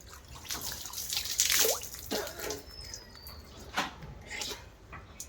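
Water from a tap drips and splashes during a cold-water bath in a bathroom, a steady patter of irregular drops close by with a few louder splashes, no voices.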